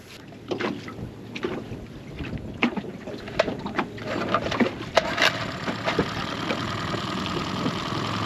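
Boat outboard motor running on a cheap Chinese carburetor, a steady low engine drone heard from nearby amid water splashing and wind buffeting the microphone, with no talking.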